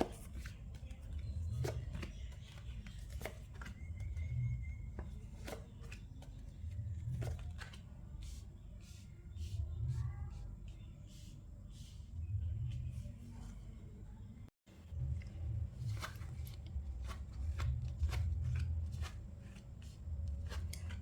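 Tarot cards shuffled and drawn by hand, with a string of crisp card flicks and rustles over a low background hum, close and quiet, including a brief dropout partway through.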